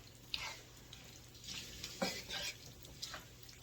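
Spiced chili being stirred in a pot on the stove, a soft scraping swish with a few light clinks of the spoon against the pot over a low, steady background hum.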